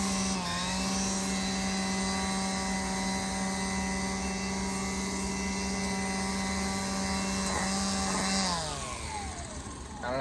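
A Milwaukee M18 battery-powered straight-shaft string trimmer runs close by with a steady high whine and a sharp buzzing line, then winds down near the end.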